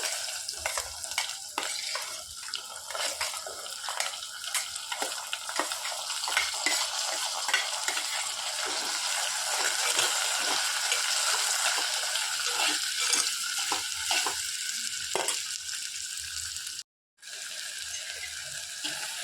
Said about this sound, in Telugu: కట్ చేసి పెట్టుకున్న దొండకాయ ముక్కలు వేసేసుకోవాలి